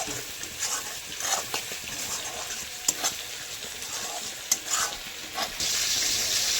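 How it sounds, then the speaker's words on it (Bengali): Spice masala and garlic sizzle in oil alongside cauliflower frying in a home kitchen, a continuous crackling hiss broken by the scrape of stirring and occasional clinks, with the sizzle swelling louder near the end. "একদিকে মশলা কষানো চলছে আর একদিকে কপিটাকে ভেজে নিচ্ছি"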